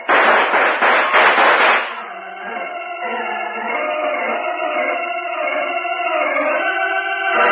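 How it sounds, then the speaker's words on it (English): A rapid burst of gunfire opens a radio-drama battle scene, a loud crackling volley over the first two seconds before it drops away to a steady, sustained background of music or ambience. "Let's give them a volley they won't forget."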